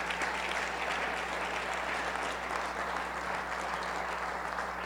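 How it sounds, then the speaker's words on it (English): Audience at a community event giving a round of applause for campaign staff, a dense, continuous burst of clapping heard steadily throughout, with a low hum underneath. "Let's give the campaign staff a round of applause."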